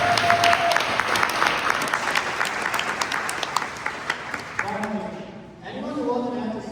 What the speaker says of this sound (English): let's give everyone a huge round of applause